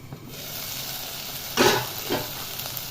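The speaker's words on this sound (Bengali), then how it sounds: "গ্যাসের ফ্লেমটা কম করে একটু ঢেকে ঢেকে সবজিগুলো ভেজে নেবে।" Vegetables fry in a covered pan over a low gas flame with a steady soft sizzle. Two brief louder bursts of stirring or lid movement break through partway along.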